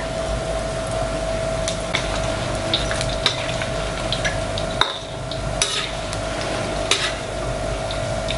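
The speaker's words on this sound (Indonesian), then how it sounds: "Langsung aja kita goreng di minyak yang panas" Banana and cornstarch snack pieces deep-frying in hot oil, a steady close sizzle with occasional clinks of a utensil stirring in the pan.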